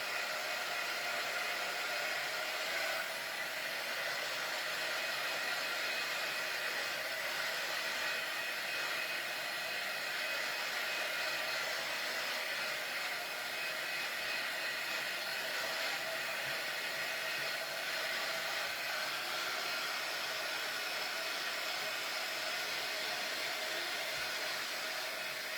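Hair dryer blowing steadily to dry a painted Christmas craft project, a continuous loud hiss-and-whir held unbroken at close range throughout with no voices.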